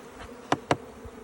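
Honey bees lifting off during a mite check give two short, close buzzing bursts in quick succession over a faint background hum, with no speech.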